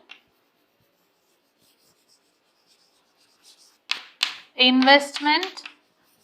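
A few brief scratchy strokes of writing on a board after near silence, followed right away by a voice speaking.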